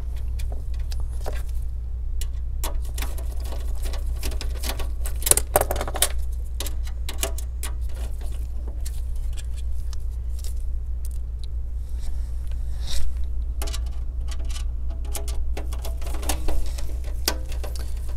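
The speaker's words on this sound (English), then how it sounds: "So let me put the two screws back in here" Small screws being driven back into the case of a Dell XPS 8950 desktop tower, heard as scattered light ticks and clicks over a steady low hum, close by, with no talking.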